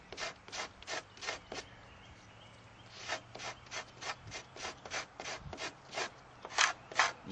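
Fibers stripped from long green yucca leaves by hand, a repeated rasping scrape in quick, regular strokes close up, with a short pause near the middle before the rhythm resumes; the strokes are moderately loud and nobody talks.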